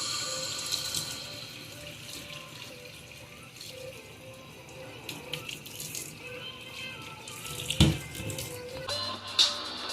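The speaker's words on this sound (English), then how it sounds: "We're gonna rinse it, so you can see how dirty this filter was." Tap water runs steadily over a dirty car intake air filter from a CTS-V as it is rinsed, a continuous splashing hiss with a few brief knocks and drips.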